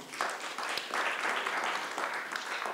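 Applause from the audience at the end of a climate-crisis panel, a full, lively burst of clapping with slight swells and scattered louder claps, lasting several seconds without voices.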